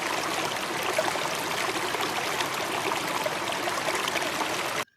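Water flowing steadily like a stream, a continuous close rushing and trickling wash that stops abruptly at the end.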